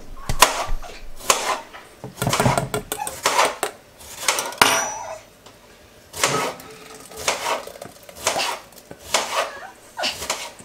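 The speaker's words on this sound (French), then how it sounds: "Du coup je reverse dans la marmite." Pouring noises from a sauce or mixture going back into a cooking pot while making red cabbage with apples, in bursts with clinks of pots and utensils, with short pauses between.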